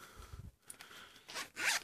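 Zipper on the small back wallet compartment of a Golla Swoosie G1405 phone case being pulled open, several short rasping zips close to the mic, the last one loudest, with no talking.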